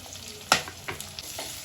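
Chopped big onion hitting hot oil in a pan for a snake gourd stir-fry, giving a sharp sizzling burst followed by a few softer stirring scrapes and crackles, close and alone with no talk.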